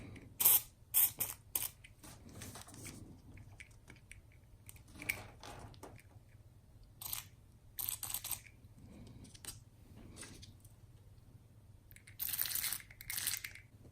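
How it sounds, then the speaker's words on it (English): Short hissing bursts of contact cleaner sprayed onto the switch and volume control of an Amstrad CPC464 home computer under restoration, several quiet sprays separated by pauses and faint handling noises. "I'll use some contact cleaner on the switch here and the volume control here"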